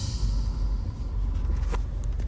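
A car driving along the road, its steady low engine and road rumble continuing throughout at close range with no talk.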